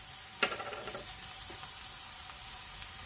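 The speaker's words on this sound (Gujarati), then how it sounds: "અને ફરીથી બધાને સારું એવું મિક્સ કરી લઈશું." Spice-coated onion filling for Jodhpur-style kachori sticks, with turmeric, red chili, coriander-cumin, amchur and a little sugar, stirred in a pan: a faint soft sizzle with a spoon scrape or two, quiet and close.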